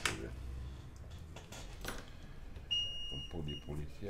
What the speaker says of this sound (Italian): Da questa parte invece fa bip